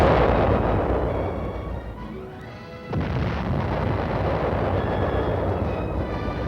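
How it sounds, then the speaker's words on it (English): Korean War armored artillery batteries fire outgoing rounds in heavy, rumbling booms over continuous battlefield roar, with a sharp blast cutting through near the middle of an otherwise dense, loud barrage. "The chain of supply ends as armored artillery batteries fire outgoing rounds at enemy held"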